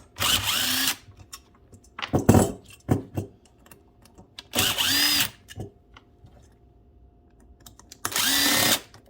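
An impact wrench rattles bolts off a Polaris Indy 680 snowmobile carburetor in three loud, close bursts of about a second each, with clinks and handling knocks of tools and parts in between.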